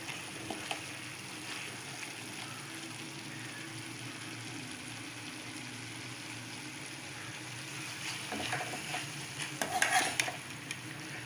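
Jackfruit seed poriyal is stirred in an open pan, a soft, steady sizzle beneath faint, intermittent scraping of a spoon against the pan. It stays quiet and continuous, with a few louder clinks near the end.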